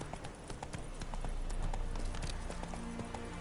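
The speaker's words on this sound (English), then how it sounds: "Run, Roach." Hooves of a horse galloping in The Witcher 3: Wild Hunt pound in a steady, fast clip-clop rhythm, close and continuous, over a busy ambient game background.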